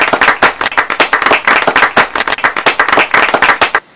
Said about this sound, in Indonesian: Tepuk tangan mengiringi langkahnya.